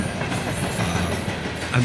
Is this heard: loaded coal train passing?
yes